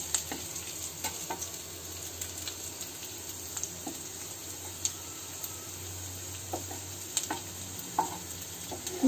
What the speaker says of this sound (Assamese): নহৰু কেঁচা গোন্ধটো যোৱালৈকে মই অকণমান ভাজি থাকিম